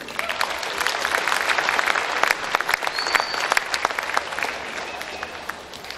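Crowd at a Belgrade girls high school basketball game against Three Forks applauds the officials, steady dense clapping with scattered cheers filling the gym for several seconds, a voice faintly under it.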